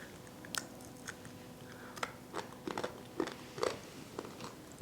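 Crunchy dehydrated jerky bitten and chewed up close, a series of sharp irregular crunches spaced through a few seconds with no talking.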